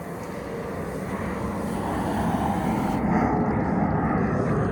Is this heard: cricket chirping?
no